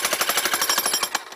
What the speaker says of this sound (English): There are other benefits, like working a jackhammer.